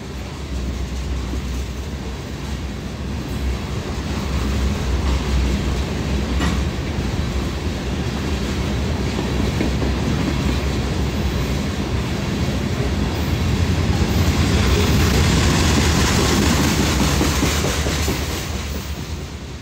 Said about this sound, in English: That's a good way to start the day off, loaded Taconite train.